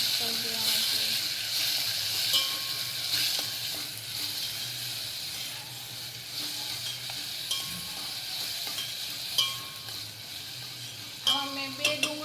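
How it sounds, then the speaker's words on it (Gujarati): Tomatoes are stirred into a frying potato and onion mixture, which sizzles steadily under faint talk, with a few utensil scrapes and clinks. "ટમેટા એડ કરવાના છે અને સરખી રીતે મિક્સ કરી દેવાના છે"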